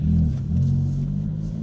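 A manual car being launched hard, its engine roaring low and heavy under load, a sustained close rumble with slight dips as it accelerates through the gears.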